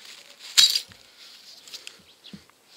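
A knife's glass breaker strikes a vodka bottle once, a sharp, bright near clink, followed by a few faint small knocks.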